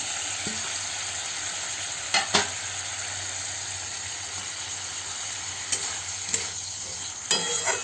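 Fried potato pieces being turned in a pan over a constant hiss of frying, with a few sharp scrapes and knocks of a spoon at intervals, close by and moderately quiet.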